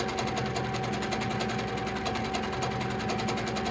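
Sewing machine doing free motion quilting with fluorescent thread, needle running in a steady fast rhythmic whir close by, with no talking.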